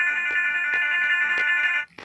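A Samsung Galaxy J3 ringtone called Donkey plays from the phone, a bright looping electronic melody with regular pulsing accents. It is loud and close and cuts off abruptly near the end.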